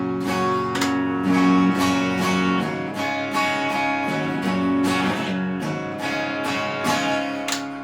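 A Squier Classic Vibe 50's Telecaster on the neck pickup through the clean channel of a 6505 Mini amp, with strummed chords ringing out and sustaining in a steady, close, loud strumming pattern with no voices.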